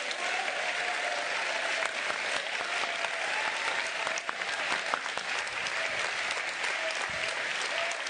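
Crowd at an ecologist political rally in Villeurbanne breaks into sustained, dense applause after a speech by Éva Joly, loud and continuous with no let-up.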